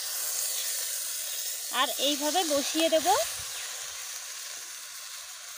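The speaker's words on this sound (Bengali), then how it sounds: "শুনতে পাচ্ছ তোমরা চটর পটর আওয়াজ হচ্ছে আর রসুনের কি সুন্দর গন্ধ বেরিয়েছে।" Garlic fries in a covered kadai with a soft, constant hiss and sizzle. Someone speaks briefly over it partway through.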